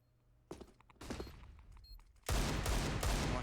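Counter-Strike match gunfire at a pro tournament: sparse shots at first, then a dense, loud burst of rapid fusillade that runs continuously to the end.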